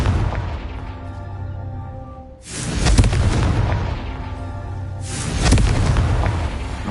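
Two booming spell blasts, Bombarda and Confringo, from the Hogwarts Legacy video game on PS5, each a loud sudden explosion with a long rumbling decay, a few seconds apart over quiet ambience.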